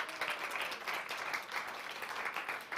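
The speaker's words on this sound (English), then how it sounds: "You can give them a round of applause." A church congregation of about seventy in a sanctuary applauds a cast of actors, a steady, moderately loud wash of clapping that continues evenly throughout.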